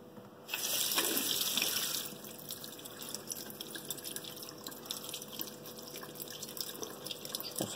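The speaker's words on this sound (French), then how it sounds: "Donc je vais tout simplement vider le contenu du pot." Tomato seeds and their liquid are tipped out of a jar into a sieve, giving a brief wet pour and splash followed by soft continuous dripping and trickling, fairly quiet and with no voices.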